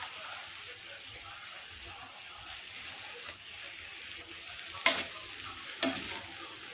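Spinach leaves go into a pan of khichdi rice and are stirred, a soft steady sizzle with gentle stirring, then two sharper bright clinks of a spoon against the pan near the end.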